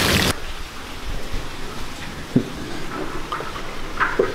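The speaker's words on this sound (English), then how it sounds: "it is raining hard" Heavy rain pours during a thunderstorm outside by a lit garden, a steady dense hiss with a few scattered knocks and drips, no voices.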